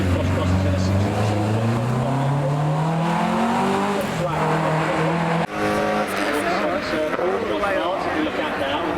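A road-rally-spec Mazda MX-5 climbs the Prescott hill climb, engine revving up through rising pitch, shifting gear and pulling hard again, loud and close, with commentary talking over it.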